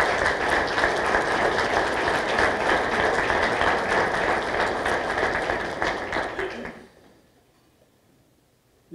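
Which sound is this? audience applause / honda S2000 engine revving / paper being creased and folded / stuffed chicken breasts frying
audience applause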